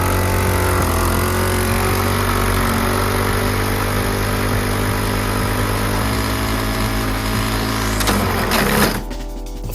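A homemade gas-powered blender engine running outdoors, a loud, continuous small-engine drone with a steady buzzing tone that wavers slightly and drops off abruptly near the end.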